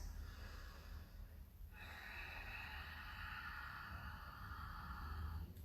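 Quiet breathing during a yoga session, with a soft exhale that fades out, then a longer, fuller inhale or exhale through the nose held at low volume.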